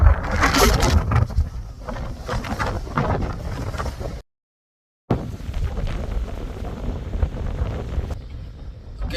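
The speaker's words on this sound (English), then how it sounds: "The wind is not calming down at all." Strong, gusty wind roars into the microphone during a bikepacking trip in northern Norway near Brønnøysund, loud and continuous apart from a brief silent gap.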